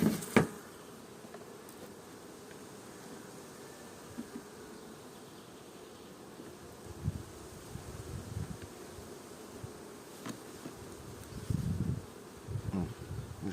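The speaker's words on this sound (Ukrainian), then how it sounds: "цю стареньку бджолка вже вилазить сюди" Honey bees buzz steadily and close up, a dense humming drone with a few louder passes and faint rustling.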